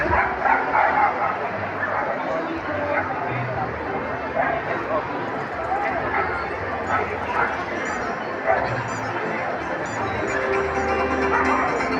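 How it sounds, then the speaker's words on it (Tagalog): A Pomeranian at a dog and cat modelling show gives a few short yips and whimpers amid constant crowd chatter and babble, never rising much above the background. "Make way for Tibbs, the ever-smiling and super-friendly Pomeranian."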